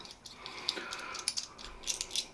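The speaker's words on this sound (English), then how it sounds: "Screw it all together. It clamps the blade down" Yates Winning safety razor being screwed together to clamp the blade, giving a few faint, short metallic clicks and light ratcheting ticks, quiet and close.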